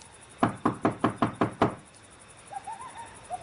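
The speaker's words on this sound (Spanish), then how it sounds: "Llamó a la puerta de la calle" Seven firm knocks on a street door in a quick, even series, close and loud, followed by a quiet pause with faint birdlike calls in the background.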